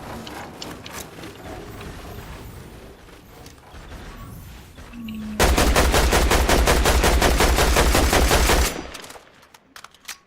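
Sustained automatic assault rifle fire in the Fortnite video game, a loud rapid burst of evenly spaced shots lasting about three seconds, following quieter game sounds and mechanical clicks.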